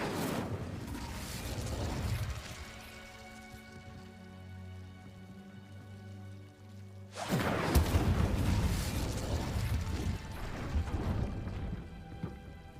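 Incendio fire spell cast in the Hogwarts Legacy video game: a crackling, rushing whoosh with a sustained tonal drone, then a sudden loud burst of noisy crackle that carries on to the end.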